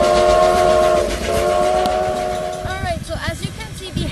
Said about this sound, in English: this is the first train that we found